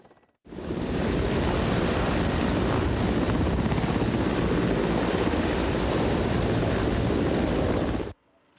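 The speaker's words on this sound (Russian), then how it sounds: "В это же время над акваторией порта появляются два вертолета Ми-14" Two Mi-14 helicopters fly over a port during a Ukrainian Navy anniversary celebration in Odesa, their rotors making a loud, steady, broadband thrum with rapid blade chop that starts abruptly and runs for several seconds before cutting off.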